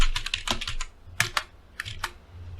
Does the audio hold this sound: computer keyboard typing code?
yes